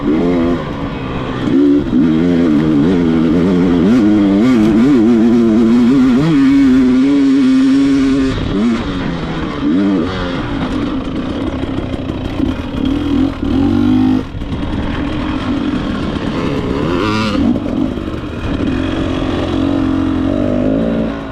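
A dirt bike engine revs and surges while being ridden through snow on a trail, rising and falling in pitch with throttle changes and staying loud and close throughout.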